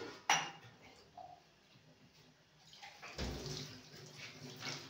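A drinking glass clinks once sharply at the start, then after a quiet pause water runs and splashes steadily as the glass is rinsed before tea is served, close and fairly soft.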